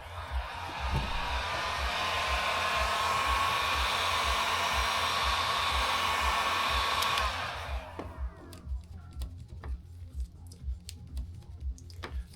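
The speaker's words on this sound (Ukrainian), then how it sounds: "Далі беремо фен." A loud, steady heat gun whooshes on vinyl wrap film on a Lincoln MKZ in a garage for about seven seconds, then cuts off, leaving soft tapping and rustling handling noises nearby.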